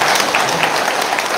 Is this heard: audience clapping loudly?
yes